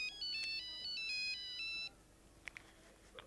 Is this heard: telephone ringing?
yes